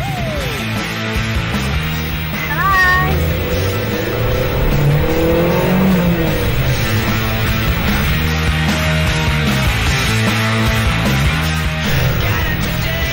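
A stolen car drives off with a loud, sustained engine roar, revving and shifting pitch throughout, close and continuous, with no one talking.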